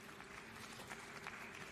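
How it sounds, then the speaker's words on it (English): Faint, steady applause from an audience at a forum opening ceremony, a dense patter of many clapping hands that keeps up evenly for under two seconds. "Let's give a big round of applause to her."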